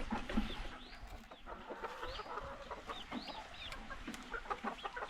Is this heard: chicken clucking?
yes